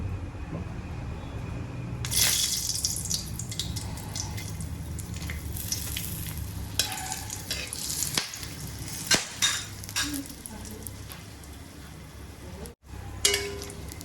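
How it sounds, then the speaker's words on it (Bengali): Whole garam masala spices sizzling in hot oil for tempering, a bright crackling hiss that swells after a couple of seconds, with scattered pops and clatters of a pan and utensils. "এখানে তেলটা আমাদের গরম হয়ে গেছে, এর মধ্যে আমরা গোটা গরম মশলা দিয়ে দেবো ফর টেম্পারিং"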